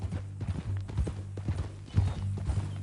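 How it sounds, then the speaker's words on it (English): A horse's hooves clip-clop steadily at a walking pace on a ranch, close and distinct, with faint low rumble beneath and no talk over them. "That a new horse?"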